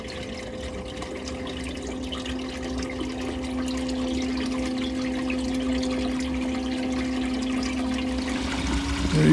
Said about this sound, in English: that water is just pouring in from the actual French drain